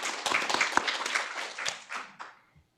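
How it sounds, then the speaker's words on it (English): Applause from an audience at a design school panel, a burst of clapping that builds quickly, then thins and fades out within a few seconds. "So if you can give me a round of applause for Sarah Lawrence as well."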